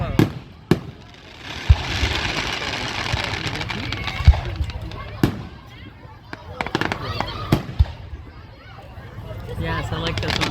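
Carnival fireworks burst at a distance on the event's final night, with several sharp booms and crackling over a steady background rumble as onlookers chatter and exclaim.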